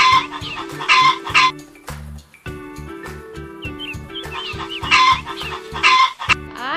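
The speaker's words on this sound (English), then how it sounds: "H is for hen." A hen clucks in a rhythmic series of short, close calls over a bouncy musical backing, with a brief pause midway before the clucking and music resume.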